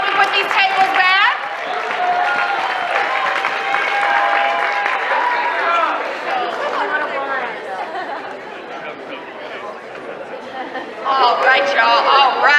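A student conference audience claps and chatters as people leave the stage, with sustained applause beneath loud overlapping voices and cheering that swell at the start and again near the end.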